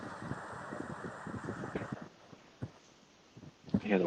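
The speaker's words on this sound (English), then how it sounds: "I hear the wind." Strong wind blowing outdoors on a coast during a waterspout chase, a steady broadband rush with gusty swells, then several sharp bumps close to the microphone, a short voice at the end.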